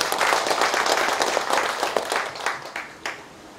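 A gathering at a rural farming cooperative ceremony breaks into applause, a burst of many hands clapping that starts full and gradually thins out to a few scattered claps.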